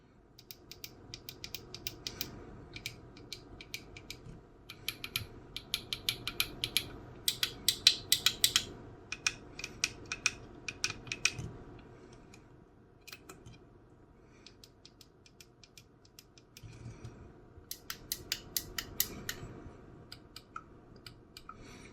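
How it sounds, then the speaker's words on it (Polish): Buttons and hat switches on a WinWing F-16EX flight simulator joystick click in quick irregular bursts, each press a crisp, close, light plastic click, with short pauses between runs and no talking. "Każdy z HUD-ów oraz przycisków ma wyraźne kliknięcie i nie wymaga dużo siły do naciśnięcia"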